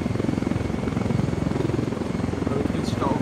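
A helicopter in the video game Ghost Recon Wildlands thrums with a loud, steady rotor chop throughout, close and continuous, with the player's voice faintly present.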